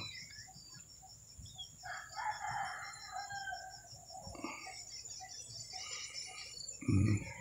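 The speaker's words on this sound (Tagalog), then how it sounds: "Kinakaykay ng aking mga alagang manok yan." A rooster crows and chickens cluck outdoors in a vegetable garden, with a steady chorus of insects chirping in the background and a low thump near the end.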